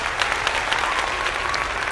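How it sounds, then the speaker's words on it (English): A round of applause rises in a dense, steady wash of many hands clapping, fairly loud and unbroken from start to finish. "So give her a round of applause."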